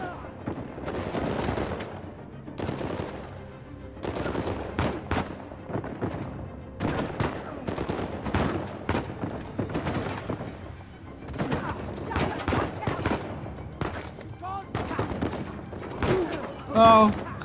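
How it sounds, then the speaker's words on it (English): Gunfire in the video game Uncharted 4: A Thief's End: rapid bursts and single shots crack repeatedly throughout, mixed with thuds and impacts during a running firefight. "I think someone shooting me up top"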